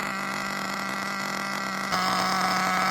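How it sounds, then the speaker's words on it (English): A small STS race engine on a Hyper VT idles steadily after an idle screw adjustment, a continuous buzzing drone at an even pitch with a slight lift in level partway through. "It seems to be idling nicely like this"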